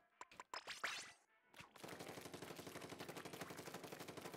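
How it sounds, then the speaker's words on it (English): Gunfire in the Splatoon-style shooter map Undertow Spillway comes first as a few sharp single shots, then after a brief pause as a rapid, steady automatic stream of shots that runs to the end, fairly loud and close. "what is this effect when the gun shoots?"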